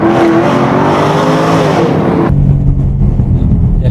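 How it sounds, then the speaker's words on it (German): A powerful Jaguar F-Type sports car engine roars loudly and continuously, its pitch climbing before dropping abruptly into a deep, rumbling idle. "Der klingt natürlich sehr viel krasser, ne, der Jaguar."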